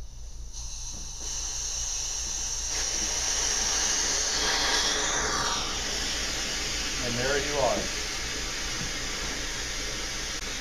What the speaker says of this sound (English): Now what you have is a continuous vacuum sucking the water away from this opening